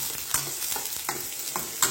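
Chopped medium onion sautéing in oil in a pan for a capsicum carrot fry, a steady close sizzle broken by several scraping stirs of a spoon, with no voices.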